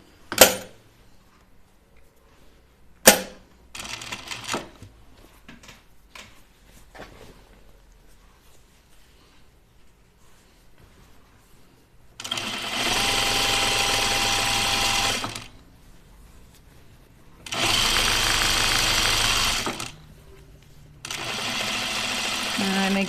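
A sewing machine top stitches a pajama top in three sustained bursts of steady motor whir, separated by pauses, following earlier clicks and handling noises at close range.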